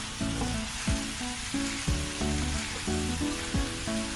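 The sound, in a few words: fried rice sizzling while being stir-fried in a pan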